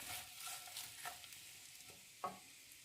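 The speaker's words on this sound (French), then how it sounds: "je mets mes oignons que je vais faire rissoler tranquillement pendant quelques minutes" Onions gently sautéing in fat rendered from potatoes for tartiflette, a soft steady sizzle with occasional stirring scrapes and a light clink near the end.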